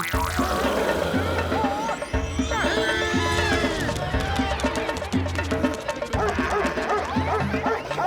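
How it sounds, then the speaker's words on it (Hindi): A dog barks repeatedly in an animated cartoon scene, with music and comic sound effects playing loudly underneath. "अरे मेरे पे क्यों भौंक रहे हो?"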